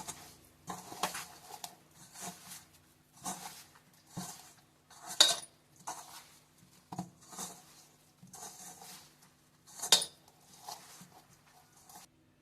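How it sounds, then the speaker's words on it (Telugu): Amla pickle is mixed by hand in a bowl, producing soft, irregular squelching and rubbing bursts with occasional light clinks against the bowl, quiet and close, spaced about a second apart. "చేతితో కలిపేసుకుందామండి."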